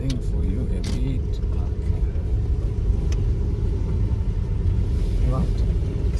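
Inside a small manual car in motion, a steady low engine and road rumble drones evenly throughout, with a voice faintly present beneath it.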